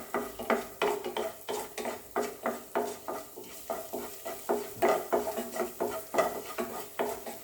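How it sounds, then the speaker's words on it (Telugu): Phool makhana (fox nuts) being dry-roasted in a pan over low gas, stirred steadily so the puffs rattle and scrape against the metal in a regular rhythm of soft clattering strokes, close and alone with no talk. "పూల్ మక్ని రోస్ట్ చేసుకున్నప్పుడు గ్యాస్ సిమ్లో పెట్టుకుని రోస్ట్ చేసుకోండి"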